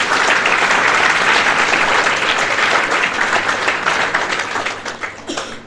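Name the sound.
audience applause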